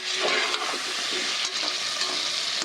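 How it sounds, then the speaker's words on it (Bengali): Cut potatoes fry in oil with fried onions, producing a continuous loud sizzle broken by occasional stirring scrapes, close and without voices. "আলুটা একটু ভেজে নিতে হবে"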